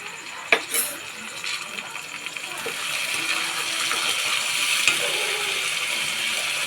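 A spoon stirs spiced mutton kosha in a pot with spice water, scraping and clinking against the metal at first, then settling into a steady wet, bubbling hiss.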